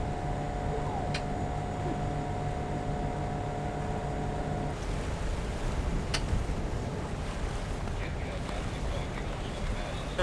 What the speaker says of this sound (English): The wind's just picked up, so we put the sails out and we're flying.